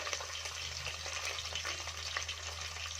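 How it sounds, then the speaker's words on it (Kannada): Sliced large onion frying in hot oil alongside curry leaves for a bean masala sambar, a steady dense sizzle and crackle running continuously at close range with no voices. "ಒಂದು ದೊಡ್ಡ ಸೈಜು ಈರುಳ್ಳಿನ ಸ್ಲೈಸ್ ಆಗಿ ಕಟ್ ಮಾಡ್ಕೊಂಡಿದ್ದೀನಿ, ಅದನ್ನು ಕೂಡ ಹಾಕೊಳ್ಳೋಣ"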